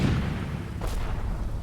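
In the Combat Mission game set in Pomerania in 1945, a Panzerfaust blast lands as a deep, rumbling boom that fades over a second, with a brief sharper burst partway through and no speech.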